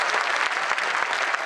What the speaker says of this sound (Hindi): जानते हो तो ताली बजा दो भाई सब लोग